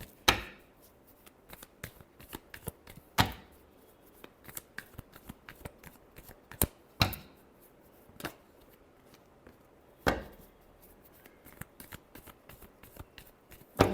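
Tarot cards shuffled repeatedly during a love reading, a steady run of soft papery riffles broken by a few sharper slaps and taps as the deck is handled, close and fairly quiet with no talking.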